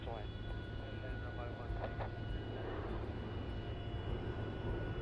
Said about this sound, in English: JQ472 now lifting out of runway 16 off to Newcastle